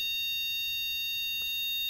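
A continuous high-pitched electronic alarm tone sounds steadily and loudly throughout, unbroken, over a faint low room background with no talk.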